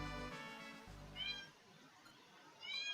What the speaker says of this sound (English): There's a cat here. She's in heat,